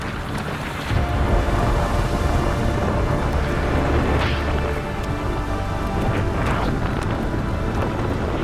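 A storm at sea in an infamous wind event near a low pass into the Pacific Ocean, heard as a steady, loud roar of wind and rough water with surging gusts throughout, no voices.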